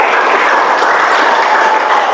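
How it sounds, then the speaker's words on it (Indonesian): A classroom of students claps together during a lesson, a loud, dense, even patter of hands sustained through the moment with no talking. "Tepuk tangan untuk keempat yang udah jawab tadi."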